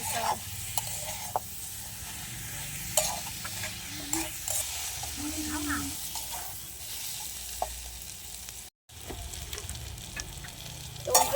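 Taro stolons and fish sautéing in a pan give a steady close sizzle and crackle, with scraping stirs of a spatula coming and going throughout and one brief dropout.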